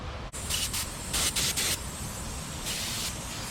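An Aeropro touch-up spray gun gives bursts of hissing spray that come and go in short pulses, a steady airy hiss underneath, close by with no talking.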